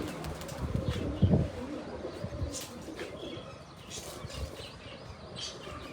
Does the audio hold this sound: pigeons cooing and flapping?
yes